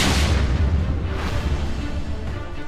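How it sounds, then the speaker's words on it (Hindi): A heavy boom from a Russian tank firing in Donetsk, Ukraine, opens loud and rumbling, then rolls on as a long, dense low rumble like a distant shell blast, with no voices. "दूसरे कैमरे से दिखता है कि एक रूसी टैंक फायर करता है और दूर जाकर बम फटता है।"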